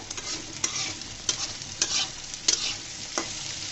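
Eggplant being fried and stirred in a pan for a radish greens dish, with a steady sizzle and a few sharp scraping stirs of the spatula at irregular intervals, heard close up with no talking.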